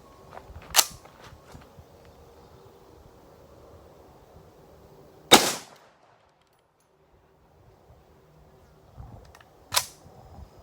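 Three separate sharp, loud gunshots from a Remington 81 semi-automatic rifle, spaced several seconds apart with quiet outdoor background between them; the second shot is the strongest.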